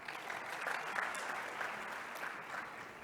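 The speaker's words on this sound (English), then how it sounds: "Let's give him a round of applause." A forum audience breaks into applause, a steady wash of many hands clapping at a distance that is faint overall and holds evenly for a few seconds.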